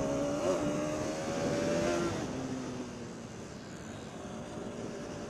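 KTM motorcycle engine droning steadily while riding, a close sustained hum with rising and falling tones that eases slightly partway through, no talking.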